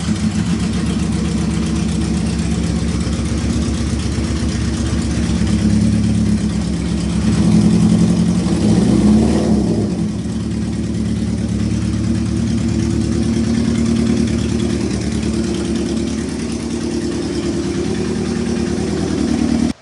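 Restored motorcycle engine running steadily for about twenty seconds, a loud close idle that rises briefly in a rev midway before settling back to a steady idle, with no talking.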